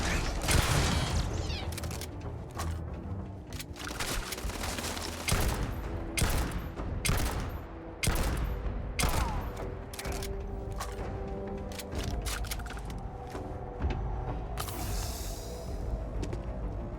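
Turrets in Starfield fire in rapid bursts of sharp gunshots, some clustered into volleys and others single cracks, with mechanical clatter between them over a steady low background.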